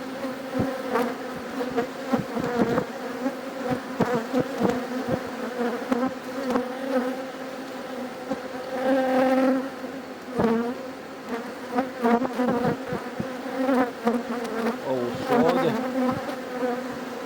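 Honeybees buzz steadily and densely throughout an inspection of a strong hive, a close, continuous drone with individual bees flying past near the ear and occasional faint handling sounds.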